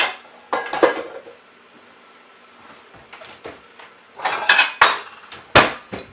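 A ceramic plate is set over a bowl of oiled pizza dough for breadsticks, heard as a few sharp ceramic clinks and knocks, close and fairly loud, spread unevenly with short quiet gaps between them.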